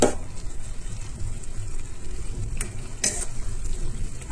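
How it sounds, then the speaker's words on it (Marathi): A spoon stirs drumstick vegetable bhaji in a pan, with a few scraping strokes over a soft, continuous sizzle close by. "तर ही पळयात अशे तरेन ही बरी मिक्स करून घेवंक जाय."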